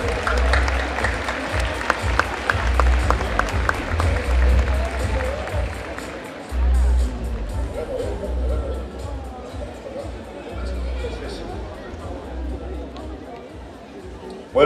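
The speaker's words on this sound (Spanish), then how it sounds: "fuerte el aplauso para el señor Nicolás Olivera" An audience at a welcome event in Paysandú bursts into applause for the mayor, a broad wash of clapping mixed with crowd chatter and murmuring voices that swells early and then eases off.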